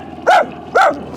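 A leash-reactive dog gives two short, sharp, chuffy barks about half a second apart, loud and close, with no talking.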